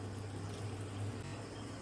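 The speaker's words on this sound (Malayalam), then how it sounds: "വേവാൻ ആവശ്യത്തിനുള്ള വെള്ളം ഒഴിച്ചു കൊടുക്കാം." Water poured into a cooking pot for avial, the mixed vegetable dish of a Kerala Onam feast, making a steady low pouring rush that runs evenly for about two seconds without speech.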